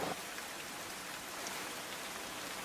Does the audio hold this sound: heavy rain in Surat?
yes